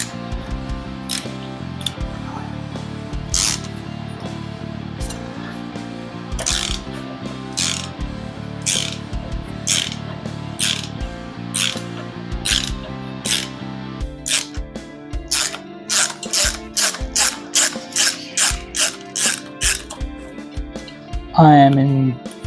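A ratchet wrench clicks in quick bursts while loosening bolts during the teardown of a Toyota 5K engine for a KE20 build. Each burst of crisp, close pawl clicks is followed by a pause. The bursts grow faster and denser toward the end.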